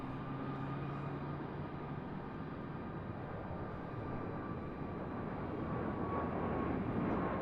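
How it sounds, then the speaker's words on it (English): A JetBlue Airbus A220 climbs steeply after takeoff, its jet engines a broad, steady roar that swells slightly louder toward the end, heard from an airport spotting position. "That A220 got a pretty steep climb out."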